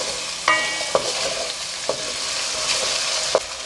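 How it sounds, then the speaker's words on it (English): Lightly salted potatoes frying in a pot for a spicy mutton curry, heard as a continuous close sizzle and hiss, broken by a few clinks of a utensil against the pot at irregular intervals, with nobody talking. "We're going to fry the potatoes out and we're going to lightly salt them."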